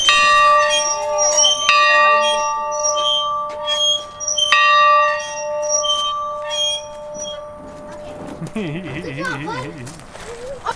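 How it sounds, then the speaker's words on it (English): A farm's big bell, used as a dinner bell to call the cows in, rings out in a few loud strikes whose bright tone hangs and slowly decays, followed by a softer warbling tone near the end. "It's the emergency bell, the dinner bell, the hey, we need you at the house bell."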